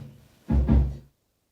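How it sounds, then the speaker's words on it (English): A short, muffled live drum kit hit, soloed and recorded in a room, with a roomy, boomy low end, two quick thumps blending into a brief resonant tail, then silence. "I'm soloing out the live drums."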